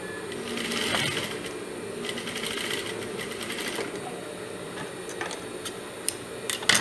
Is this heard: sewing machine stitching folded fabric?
yes